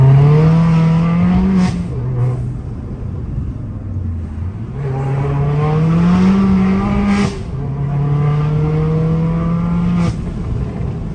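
An Abarth tuned to stage 3 accelerates hard and loud, rising through three or four gears with the engine note dropping at each shift and brief pops in between.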